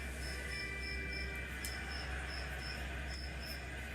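A steady rhythm of cricket chirps pulses over a constant low drone, evenly spaced and fairly clear, with nobody talking.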